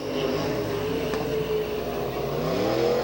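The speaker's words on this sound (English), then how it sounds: "Listen to when the accelerator is put to the floor in that yellow and white number 1 car." A yellow and white number 1 stock car at a point race in Porterville, California roars as the accelerator is floored, a loud, steady rising engine drone with rumbling undertone, heard from trackside with crowd and track ambience.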